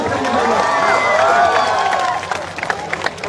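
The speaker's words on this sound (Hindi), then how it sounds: "जोरदार तालियों से सभी साथी स्वागत करेंगे।" Large crowd of seated students at an outdoor protest rally clapping and cheering to welcome a speaker, a loud, continuous wash of applause mixed with hubbub that thins toward the end into scattered, distinct claps.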